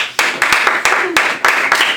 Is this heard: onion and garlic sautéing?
no